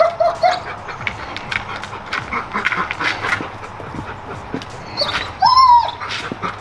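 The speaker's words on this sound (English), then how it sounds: "The German Shepherd mixed with Border Collie, and he's an absolute psychopath." A German Shepherd and Border Collie mix dog whimpers with a couple of short, high whines, one early and one louder near the end, over scuffling background noise in a workspace where a Bronco winch is being installed.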